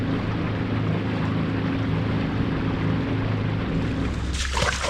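A boat engine drones steadily at close range with a low, even hum, joined near the end by a brief burst of splashing or wind noise.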